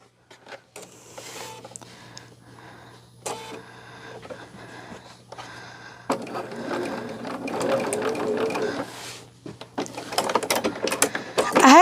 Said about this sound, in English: That's what happens when I talk and sew.